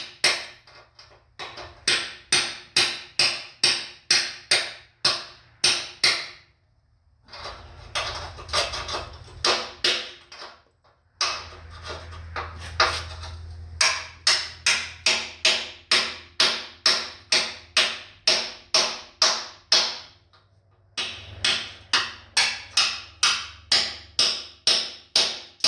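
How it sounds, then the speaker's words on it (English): Hammer and chisel chipping loose metal off a 1948 Chevy truck frame, sharp close metallic blows in quick steady runs with short pauses between, a low rumble underneath in places. "I'm going to start chiseling that loose metal, whatever I get off"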